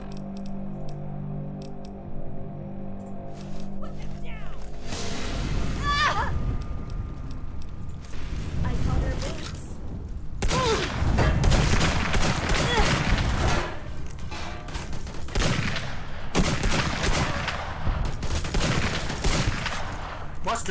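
Rifle fire in the video game Fallout: The Frontier, loud close shots in rapid bursts with mechanical clicks and reload clatter, over game music at the start.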